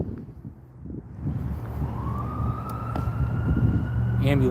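An ambulance siren rises out of traffic rumble, a faint steady wail growing slightly louder as the vehicle passes at a distance.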